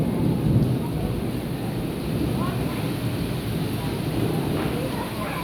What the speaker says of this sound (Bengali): জোরে জোরে বজ্রপাত হইতেছে।